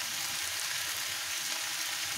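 Head meat sautés for haleem in a pan, giving a soft, even, continuous sizzle that stays faint and steady with no stirring strokes.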